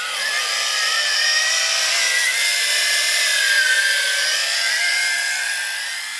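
A JJRC H16 Tarantula X6 hexacopter drone flies outdoors in wind, its rotors making a sustained high buzzing whine that swells slightly louder midway, then eases, heard alone with no talking.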